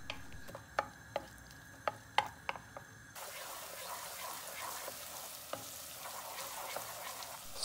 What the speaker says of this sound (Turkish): Soğanları pembeleşinceye kadar kavuracağım.